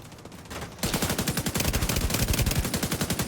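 Rapid automatic gunfire in The Division 2 video game, a dense, steady burst of closely spaced shots that starts abruptly and keeps hammering loudly to the end, with no talk.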